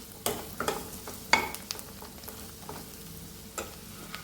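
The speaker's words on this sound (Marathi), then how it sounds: "कोथिंबीर अगदी अशी क्रिस्पी होईपर्यंत आपल्याला ते परतून घ्यायचं आहे" Fresh coriander crisps in hot oil in a pan while a spatula stirs it. A soft, low sizzle carries a few sharp scraping clicks of the spoon close by.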